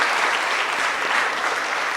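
A conference audience applauding researchers, a dense, even wash of many hands clapping at once, steady and fairly loud throughout with no pauses.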